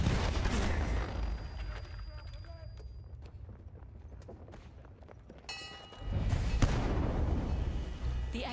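Artillery fire in a Battlefield 1 battle: loud booming blasts open and close the stretch, with quieter distant rumbling and gunfire in between and faint voices in the mix.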